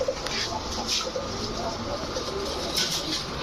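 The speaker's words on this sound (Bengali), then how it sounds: "এরপরে দেখাবো আপনাদের ইন্ডিয়ান কাকজি একটা মাদি কবুতর" A female Indian Kakji pigeon coos softly in short repeated phrases, close by, with faint background bird and room noise around it.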